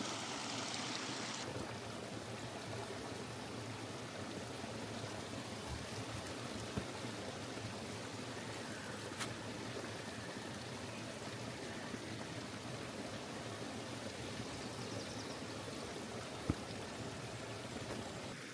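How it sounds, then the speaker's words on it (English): Steady, broadband rush of a flowing stream outdoors in nature, continuous and fairly close, with no talking over it for the full stretch. "That, my friends, is a stream with flowing water."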